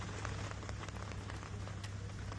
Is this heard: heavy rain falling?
yes